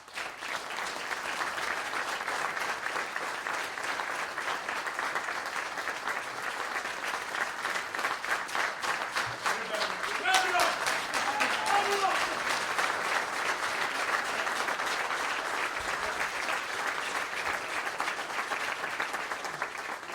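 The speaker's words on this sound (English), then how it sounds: "We're going to clap it up a little bit, all right?" Audience applause at a basketball coach's hiring press conference, a long, sustained, even roar of many hands clapping in a large room, with a few faint voices briefly audible partway through.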